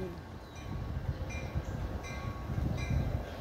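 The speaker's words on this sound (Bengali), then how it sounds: "ওই যে ট্রেনটা ঢুকছে, স্টেশনে ঢুকছে" A double-decker diesel train rolls into Chicago Union Station, giving a steady low rumble with repeated rhythmic clacks of wheels over rail joints, heard fairly close and continuous.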